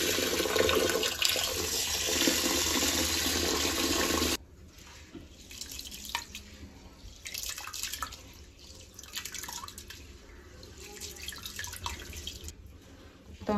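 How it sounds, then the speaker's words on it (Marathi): Rice is washed in water for white chicken biryani, first under a loud running tap, then with softer sloshing, dripping and light clinks of grains and vessel, close and quiet. "तांदूळ आता स्वच्छ 2-3 वेळा पाण्याने धुवून घेऊया"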